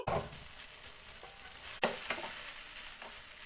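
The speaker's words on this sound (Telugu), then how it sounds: "2 నిమిషాలు మూత పెట్టుకొని మంచిగా ఉడికించుకుంటే మంచిగా ఉడుకుతుంది" Tomatoes for a dried prawn curry cook in a covered pan, giving a continuous close sizzle and hiss with occasional soft clicks and scrapes, and no one speaking.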